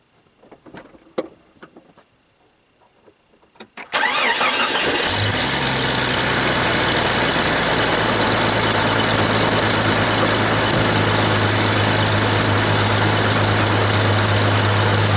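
A Jeep engine cranks after a few quiet clicks and knocks, catches on the first try and settles into a loud, steady idle that runs unbroken, with no talk.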